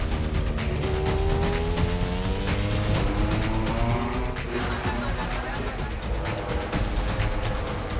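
MotoGP motorcycles launch together at the race start at Mandalika. A dense, loud roar of many engines rises in pitch as they accelerate away, with a commentator talking over it.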